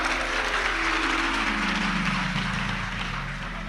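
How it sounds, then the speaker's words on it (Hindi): An audience at a live Shiv Mahapuran katha gathering in Madhya Pradesh claps in a steady, dense wash, with a low droning tone sliding underneath until the end. "ताली बजाने से कुछ नहीं होगा"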